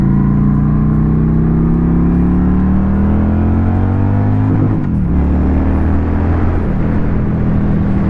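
A Honda Shadow 750 motorcycle engine pulls hard through first gear, its steady drone rising in pitch, dipping briefly at a shift around midway, then carrying on loud and close with no voices.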